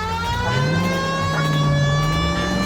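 A police car siren in the game L.A. Noire wails with a loud, steady tone that bends slightly in pitch, over a constant engine rumble.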